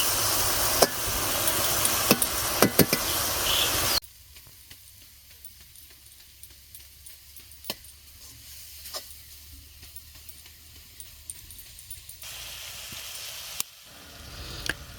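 Onions fry in a pan for a fish and taro-stolon curry, giving a crackly sizzle with small clicks for a few seconds before dropping to a faint, quiet hiss, with a short return of sizzle near the end.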